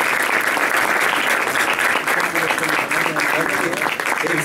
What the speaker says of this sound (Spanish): pedirle un aplauso para los profesores